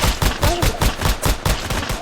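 Rapid automatic gunfire in the Roblox game Fake Money Tycoon, a steady loud burst of evenly spaced shots about eight per second, with no talk over it.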